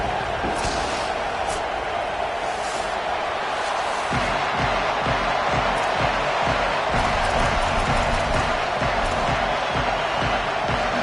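A home crowd roars at a Texas A&M Aggies college football stadium before a kickoff. The dense, steady crowd noise lasts throughout, with faint thumps inside it.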